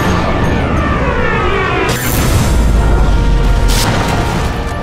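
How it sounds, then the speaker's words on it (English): A grenade is shot and explodes in the video game Sniper Elite V2, a deep, loud boom with a rumbling tail that swells over a dense, continuous layer of game sound. "Hit the grenade instead of the guy, and rather than killing just him, you can kill his entire squad."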